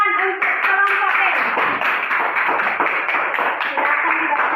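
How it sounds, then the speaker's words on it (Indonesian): A school class claps hands for group B in a classroom: a brief voice at the start, then a steady, dense run of claps with a few sharper accents. "Tepuk tangan untuk kelompok B."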